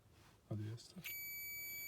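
Tester beeping on the closed contact of a magnetic starter: a steady continuous electronic tone starts partway through and holds to the end, close and clear, following a brief spoken word.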